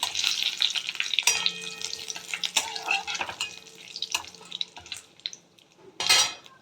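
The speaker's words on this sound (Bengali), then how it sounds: "এবার দিয়ে দেবো জিরে তেজপাতা শুকনো লঙ্কা" Cumin seeds, bay leaf and dried red chilli sputter in hot oil in a pan, a close crackling sizzle broken by clinks and scrapes of a utensil, ending in a louder burst of frying.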